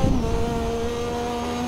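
A Lotus 98T turbocharged Formula One car's engine barks sharply as the throttle is cracked open at low revs, then settles into a steady, loud drone with a whining tone over it, with no talking.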